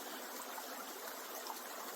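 Creek water flows steadily around a camera tripod set in the middle of a streambed, a constant close hiss and rush of running water with no talking.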